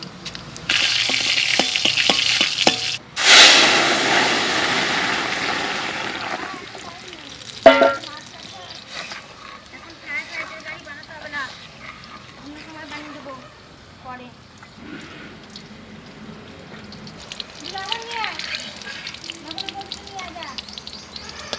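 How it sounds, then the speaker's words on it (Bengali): Chilli and cumin dropped into hot oil as tempering for mung dal, a loud sudden sizzle that bursts out and gradually settles into a softer crackle while people talk over it. "এবার ডালে ফোড়ন দেব, লঙ্কা"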